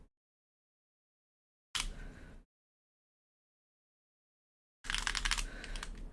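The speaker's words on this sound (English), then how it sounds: "I like having a little bit of keyboard sounds, but that shit kind of loud looking at the audio bar" Loud computer keyboard typing in two bursts, a short one then a longer dense run of rapid clacking keys, separated by silence, close and alone with no voices.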